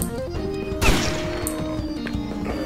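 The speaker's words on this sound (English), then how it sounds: "Is he shooting us?" Gunfire in the Agent Awesome video game, a sharp burst of shots cracking over an ongoing game soundtrack, followed by a few fainter hits.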